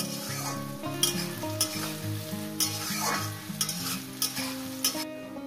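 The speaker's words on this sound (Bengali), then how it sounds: "পেঁয়াজটাকে আমি সুন্দর করে লাল লাল করে ভেজে নিচ্ছি, একদম বেরেস্তা করে দেব।" Onions fry in a pan until deep golden, bubbling with a strong, continuous sizzle close up. Stirring scrapes and taps cut in now and then, and music plays softly underneath.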